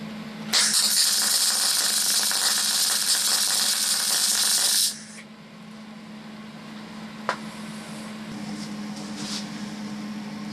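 A MIG/MAG welding torch at high power gives a loud, harsh, continuous crackling hiss for about four seconds over a steady hum, then stops, leaving the hum and a single sharp click.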